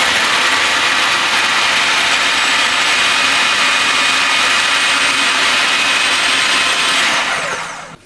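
A blender runs on high, chopping persimmon pieces into pudding batter: a steady, loud motor whir with a faint high whine holds for about seven seconds, then winds down and stops.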